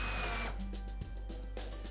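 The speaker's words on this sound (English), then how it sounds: "We want to make sure we pre-drill and fasten the proper screws." A power drill pre-drills screw holes into a trailer sidewall during a bulkhead track installation, giving a steady close whine with short pulses of bit load and one brief dip partway through.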